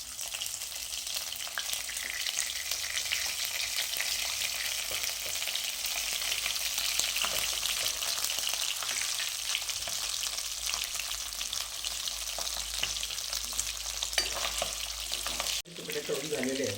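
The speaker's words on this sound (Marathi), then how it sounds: "आता आपण ते एक एक तेलामध्ये, गरम तेलामध्ये तळून घेणार आहोत" Mutton pieces for Kolhapuri mutton pickle fry in hot oil with a dense, steady, close-up sizzle and bubbling, and a brief break near the end.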